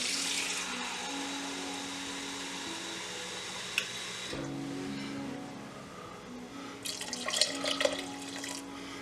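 Water poured from a tap or jug into a pot of red beans on the stove, a steady close rush of flow that eases midway and then returns with brief splashy bursts, with no talking.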